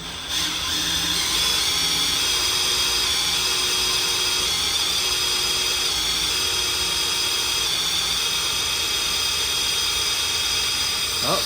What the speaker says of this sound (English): So I got this screwdriver straight into the oil pump.